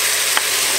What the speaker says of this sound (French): Donc là je fais dorer ma viande et ensuite je reprends.